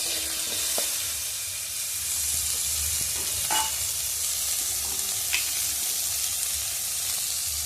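Cut mango and sweet potato fry in hot tempered oil for a fish-roe chutney, a steady close sizzle and hiss with a few sharp clinks of a spatula stirring the pan.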